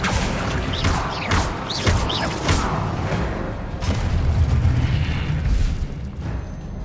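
Confringo explosion spells in the Hogwarts Legacy video game, several loud booming blasts with crackling, whooshing bursts in quick succession, followed by a rumbling tail.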